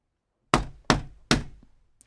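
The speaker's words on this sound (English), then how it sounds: "Finally, he knocked on the shop door." Three firm knocks on a shop door, evenly spaced and close, each a dull thud with a short decay, in a quiet street setting.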